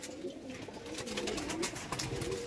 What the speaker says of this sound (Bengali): এটা বাচ্চা পায়রা, বেবি আছে দেখুন।